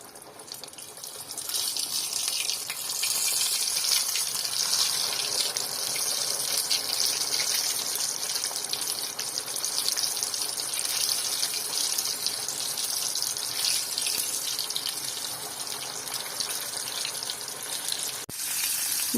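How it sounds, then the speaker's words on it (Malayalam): Coated food dropped into well-heated oil and frying over low flame, a steady, bright, loud sizzle after a short quieter start, continuing evenly with a faint knock near the end. "ഇനി ഇത് നമുക്ക് എണ്ണയിലോട്ട് ഇട്ട് കൊടുക്കാം. എണ്ണ നന്നായിട്ട് ചൂടായിട്ട് വേണം ഇട്ട് കൊടുക്കാൻ."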